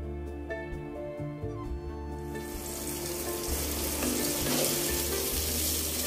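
Potato pieces frying in oil in a kadai for ilish biryani: a steady bubbling sizzle that grows louder and fuller halfway through, with faint background music, close and continuous.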